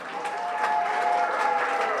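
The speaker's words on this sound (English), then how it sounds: "That's the loud crowd over there, and they are my supporters" A loud crowd of supporters applauds steadily, dense continuous clapping filling the space for the whole stretch with no break.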